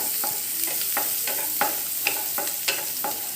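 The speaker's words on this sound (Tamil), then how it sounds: "இந்த மாதிரி நல்லா வதக்கிக்கோங்க. வெங்காயம் நல்லா வதங்கணும்." Onions sautéing in a pan, a constant hissing sizzle with regular spatula scrapes and taps roughly every half second, close and clear, with no voices.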